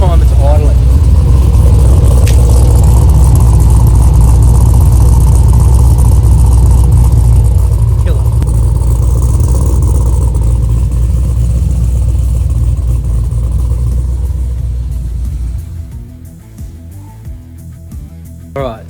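A 1000hp HSV GTS with a built engine and custom exhaust idles with a loud, deep, steady rumble, heard from behind, then fades toward the end.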